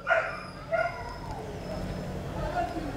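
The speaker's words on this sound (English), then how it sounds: "What is wrong with that dog?" A dog barks and yips in short bursts, close and fairly loud, with a few sharp calls spread across a few seconds over low background noise and some speech-like sound.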